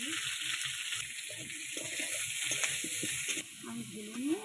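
Potatoes fry in oil with cumin and spices, a steady sizzling hiss heard close up beneath someone talking throughout.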